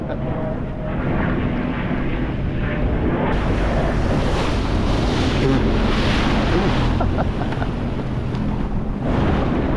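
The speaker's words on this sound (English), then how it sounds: "And the winds just picked up. And just right around me, we got white caps pretty much everywhere." Strong wind buffets the microphone over open ocean, with waves and whitecaps washing all around a Sea-Doo watercraft. The roar is loud and constant, with surges of spray and engine noise throughout.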